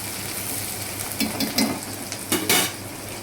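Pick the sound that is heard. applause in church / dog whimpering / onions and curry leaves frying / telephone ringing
onions and curry leaves frying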